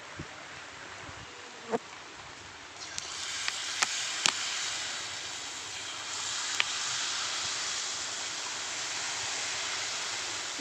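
Jalebi batter frying in hot oil gives off a steady, soft sizzle with a few sharp pops and crackles, while faint background hiss continues throughout.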